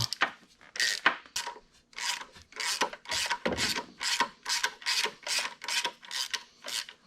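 A bolt is turned by hand into an SRT-4 engine mount, producing a steady series of about a dozen rasping, scraping strokes in an even rhythm, close and alone.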